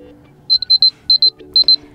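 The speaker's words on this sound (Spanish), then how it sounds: "podemos cambiar el sonido." A Motorola Moto G62 5G phone plays its alarm tone: a close, bright electronic beep pattern of short pulses in quick groups of two or three, repeating with small gaps and no talking.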